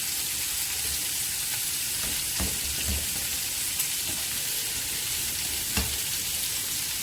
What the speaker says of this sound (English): what we are going to do is help it along the way by mashing the potatoes.